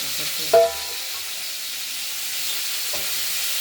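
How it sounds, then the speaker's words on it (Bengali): Ridge gourd pieces sizzle in hot oil in a wok, a steady frying hiss with a sharp clink and scrape of stirring near the start, no talking. "এই কড়াইতে তেল দিয়ে আমরা ঝিঙেগুলো বসিয়ে দিলাম।"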